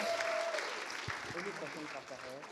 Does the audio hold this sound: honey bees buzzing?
no